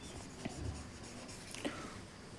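Marker or chalk strokes writing a sentence on a classroom board, a few short scratchy squeaks and taps spread across a couple of seconds, fairly close with no speech.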